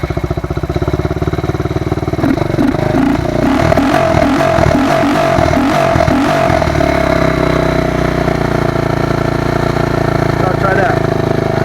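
Honda Grom motorcycle with a Finbro ECU idles steadily on a cold start, a loud continuous engine drone with a brief rise in revs early on, while a person talks over it.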